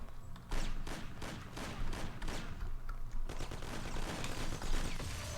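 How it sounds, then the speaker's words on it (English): Final shootout in Mafia: The City of Lost Heaven, a dense, continuous crackle of rapid gunfire and volleys of shots, fairly distant and faint, with no talking. "So here's the final shootout."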